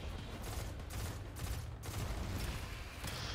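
A rapid-firing gun in the Destiny 2 video game rattles off a steady stream of shots, fairly quiet and continuous throughout, with no talk over it.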